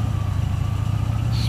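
A Buick Century Turbo Coupe with a 3.8 liter Evenfire 3800 engine and chambered exhaust running up close, a loud, steady low rumble with a rhythmic pulse throughout.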